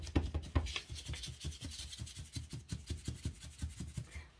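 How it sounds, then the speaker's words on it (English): Sanding a cast Jesmonite heart piece by hand: steady back-and-forth rasping strokes in a quick even rhythm, close and moderately loud, with no talk. "Obviously, I know I'm going to have to sand again."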